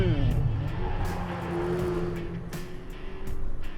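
A 1064hp Corvette ZR1 braking hard, its engine note falling while the ABS pulses in rapid repeated thumps, heard from inside the car with someone talking over it.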